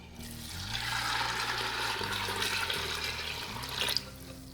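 Six cups of warm water pour into black beans in an Instant Pot, a steady close gushing and splashing stream lasting several seconds, with a low hum underneath and no speech.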